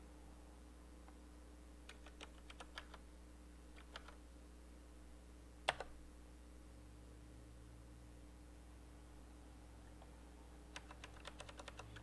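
Scattered bursts of computer keyboard typing during Python coding, faint clicky keystrokes in short clusters over a quiet electrical hum, with one sharper key tap midway.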